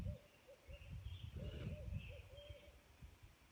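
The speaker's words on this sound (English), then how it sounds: "I just heard my screech owl." Faint, tremulous screech owl calls in daytime whistle softly over a low rumbling background, repeating in short trills at a distance.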